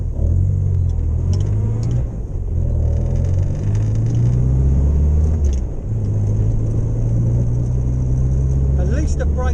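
A Morris Minor car with failed ignition points drives along, its engine a loud rough low rumble with shifting revs and a brief dip, while a person talks over it.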